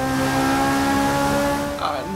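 A Ferrari sports car engine in Forza Motorsport 6 drones at a steady high pitch, then shifts up with a brief change in tone near the end; continuous and close.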